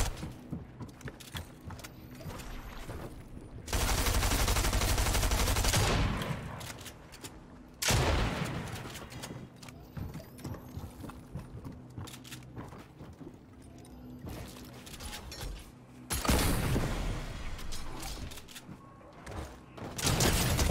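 Rapid bursts of automatic gunfire in a Fortnite match, several long sustained volleys broken by shorter shots and quieter gaps, loud and close.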